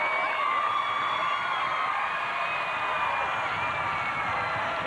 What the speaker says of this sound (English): I hear the crowd reaction over there.